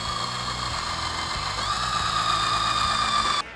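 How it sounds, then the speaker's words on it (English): A power drill with a 3/32 bit bores a small hole in a wooden floor board, a steady high whine that rises slightly in pitch partway through and cuts off abruptly near the end. "we're going to use a 3/32 drill bit to drill a small hole in the board"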